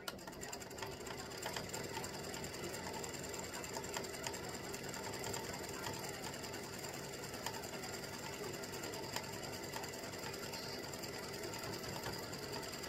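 An embroidery machine stitches a baseball applique design with a rapid, steady mechanical chatter of needle and gears, faint and continuous throughout with no voices.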